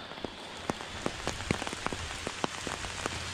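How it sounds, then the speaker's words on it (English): Light rain patters on a nearby surface, scattered sharp drops tapping irregularly over a soft continuous hiss, close and fairly quiet with no voices. "it's still raining a little bit here"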